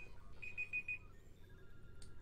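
A timer alarm beeps four quick times in a row, faint and thin, in a workshop setting with low background noise.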